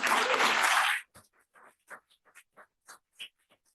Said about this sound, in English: a round of applause for Stella and the team